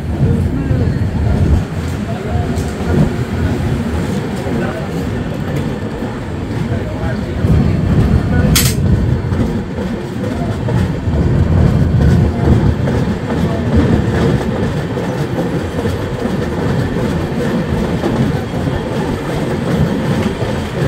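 The Howrah SF Express, number 12664, pulls out of platform 3 at Balasore. Loud rolling clatter of wheels over rail joints continues steadily throughout, with a sharp metallic bang near the middle and a voice heard faintly at times.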